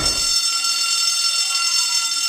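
A loud, continuous alarm bell rings steadily with a harsh, metallic clang, sustained without pause for the whole stretch, in an audiobook dramatization of The Dunwich Horror.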